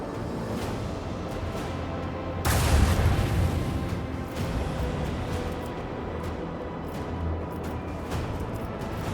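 Ship cannon fire in the space combat of the video game Rogue Trader: a heavy booming blast that swells and rolls off into a long rumbling tail, set against steady game background noise.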